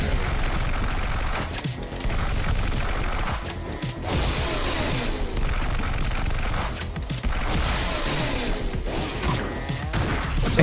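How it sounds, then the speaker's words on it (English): Dense, rapid automatic fire from an exploding machine gun in the sci-fi hospital game Galacticare, a continuous barrage of bursts, booms and crashes with no pauses, loud and busy throughout. "exploding machine gun"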